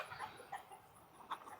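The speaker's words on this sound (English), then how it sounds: "Little Rip is stirring up the chicken yard." Chickens cluck faintly in a farm chicken yard, with a few soft, scattered calls over a quiet outdoor background.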